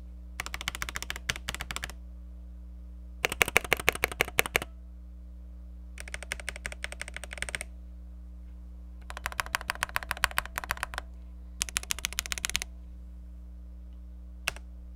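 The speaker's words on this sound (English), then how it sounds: "put it next to the keys so you can hear the keystrokes." Bursts of rapid keystrokes typed close by on a DrunkDeer A75 magnetic Hall-sensor keyboard, in five clusters separated by short pauses, with a final single click; no talking.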